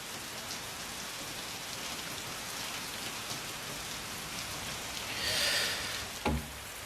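Heavy rain falls outside in a steady, dense hiss of drops on surfaces, holding even throughout, with a slightly louder swell and a brief dull knock near the end.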